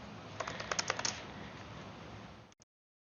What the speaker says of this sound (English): let's start typing in our question.